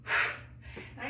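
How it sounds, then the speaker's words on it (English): A single strong, breathy exhale during a squat-to-twist exercise swells and fades at close range, followed by quieter breath noise and light movement. "Nice strong exhale"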